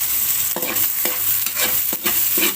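Onion, chili and ginger sautéed in a hot pan: continuous sizzling frying with repeated scraping, clacking strokes of a spatula stirring at an irregular rhythm, close and fairly loud, no voices.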